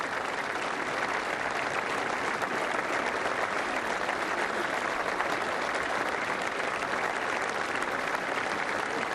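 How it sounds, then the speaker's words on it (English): Applause and a standing ovation for veterans from a large crowd at a commemoration ceremony in France, a continuous wash of distant clapping that holds at an even level throughout without pause. "the swelling applause, and then the standing ovation"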